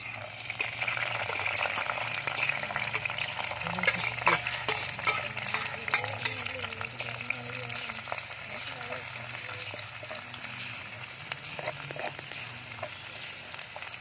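Ginger and garlic frying in hot oil in a pan, a steady close sizzle with scraping stirring throughout, running continuously with no talk over it.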